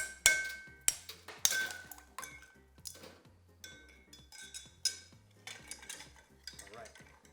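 A bar spoon stirs a vodka cocktail over ice, giving a close series of sharp clinks and rattles of ice against glass, loudest at the start and settling into lighter taps.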